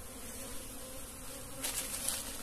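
Many bees, black bees and Italian honeybees among them, buzz steadily while drinking at a small spring in the woods, a continuous close hum that swells slightly near the end.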